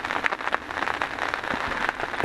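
Steady rain patters outdoors during a spring turkey hunt in Missouri, a dense broadband hiss with scattered louder drops, fairly close and continuous with no talk over it.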